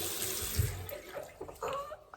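An aerated kitchen tap runs water over a hand, a soft airy hiss with splashing shifting as the hand moves through the stream; no one speaks.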